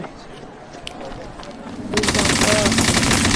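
Gunfire in a Minecraft game starts out as scattered distant shots and then breaks into a loud, sustained rapid burst like a machine gun, with a voice talking over it.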